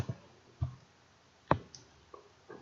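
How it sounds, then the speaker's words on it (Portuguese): Computer keyboard keys tapped while entering a command parameter, a handful of sparse, crisp clicks spaced irregularly in a quiet room with no talking. "dando um espaço, digitando o parâmetro em questão."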